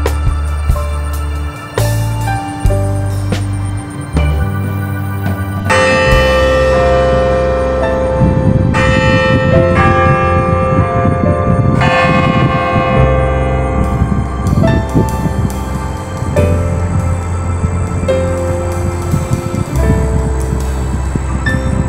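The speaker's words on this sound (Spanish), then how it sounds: "las campanas del carillon volvieron a sonar, a crear la música del carillon" Carillon bells ring out in the Carillon Historical Park in Dayton, Ohio, playing sustained, overlapping tuned tones, a steady musical peal that carries strongly with no talking.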